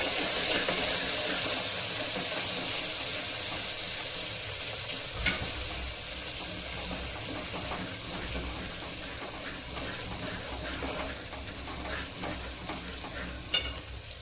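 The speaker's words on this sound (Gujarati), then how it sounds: "આદુ લસણની પેસ્ટ નાખી હલાવવાનું" Ginger-garlic paste with asafoetida sizzles and fries in a pan over a low gas flame while being stirred for mixed dal; a steady, close crackling hiss runs throughout, with a couple of sharp utensil clinks.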